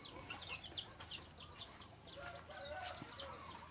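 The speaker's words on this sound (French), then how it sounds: "ces oiseaux-là sont des jolis oiseaux qui sont élevés pour faire des concours" Birds raised for competitions on a farm in Thailand call repeatedly at moderate distance, with a rooster-like crow and scattered clucking over a steady outdoor background; no one speaks.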